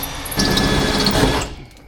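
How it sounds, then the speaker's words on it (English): A drill boring a small pilot hole through the layered cab roof of a Squarebody Chevrolet Suburban, a loud whining buzz lasting just over a second before it winds down. "Then we'll drill a little pilot hole. And we're gonna go through all the layers."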